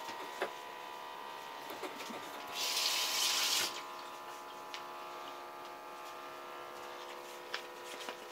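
Tap water runs while a cup is washed, a soft hiss of about one second in a quiet room, with faint clicks and small knocks before and after.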